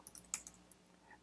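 Computer keyboard typing up close, a quick cluster of light keystroke clicks that tapers off into a couple of isolated taps, quiet and with no voices.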